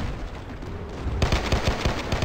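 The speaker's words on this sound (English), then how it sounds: "It fires just 7 rounds, but at a very high speed." M1911 pistol firing in a video game, a rapid string of sharp gunshots in quick succession after a short quieter lead-in, loud and close.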